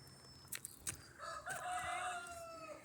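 A rooster crows once at a middling distance among farm chickens, preceded by a few faint clucks and rustles, with no voices.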